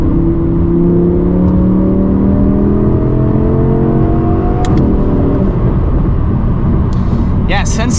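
A naturally aspirated car engine revs hard and climbs in pitch toward high RPM, loud and close, with a drone of road and cabin noise throughout.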